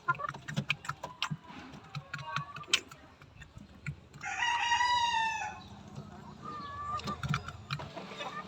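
Stag roosters and chickens eating moistened maintenance feed: rapid pecking taps and clucks, then one rooster's loud, drawn-out crow rising clearly above the flock, followed by more clucking and pecking nearby.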